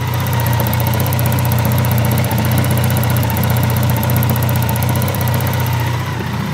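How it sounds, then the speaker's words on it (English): Grinnall Scorpion K1100 motorcycle engine idling, a steady, close, loud clattery mechanical hum with a constant low throb and rattling texture throughout, no pauses. "They never were the smoothest, gentlest, quietest engines, these. They are quite a clattery engine, really."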